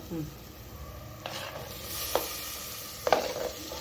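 Onions sautéing for a mutton gravy give a soft, steady sizzle in the pan, broken by a few brief scraping stirs, close by and fairly quiet.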